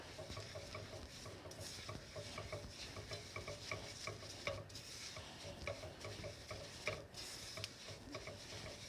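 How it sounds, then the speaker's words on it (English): A spoon scrapes and clicks steadily in a bowl, mixing butter with sugar for a candied yam dish, close and continuous with no talking. "I'm gonna use a spoon and just mix the butter with the sugar"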